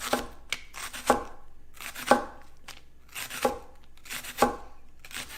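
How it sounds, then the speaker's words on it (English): Kitchen knife slicing vegetables thinly on a cutting board for a chicken pasta dish, in regular groups of crisp cuts with a louder board knock roughly every second, close and clear, with no talking. "Just cut it in really thin slices"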